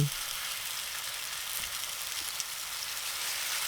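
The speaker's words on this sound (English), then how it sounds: "When the oil is hot, put the pieces of eggplant flesh side against the pan." Eggplant pieces laid flesh side down in hot vegetable oil sizzle steadily in a pan, a dense continuous frying hiss at moderate level with no talk.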